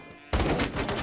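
Gunfire in the Roblox game Phantom Forces erupts suddenly as a loud, rapid automatic burst that fills the rest of the short moment, close and dense with no talking.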